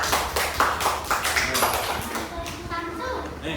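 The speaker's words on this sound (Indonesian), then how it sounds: "Tepuk tangan dulu, tepuk tangan." Children in a classroom clapping their hands together, a burst of rapid overlapping claps that fades out under chatter and voices.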